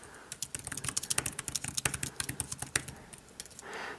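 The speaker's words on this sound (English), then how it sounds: "and I can start typing" Fast, steady typing on a Belkin Ultimate Keyboard Case for an iPad, dense close key clicks with varied loudness running for several seconds, then a soft rustle at the end.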